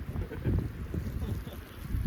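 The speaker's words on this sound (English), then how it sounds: "Don't get me wrong, it's pretty windy out" Wind gusts buffet the microphone on a snowy winter backpacking trail, a low rushing roar that swells and eases without a break. No voices are heard over it.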